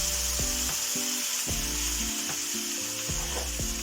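Onions fry in a pan with a steady background sizzle, while a spatula scrapes and stirs in repeated strokes about every half second.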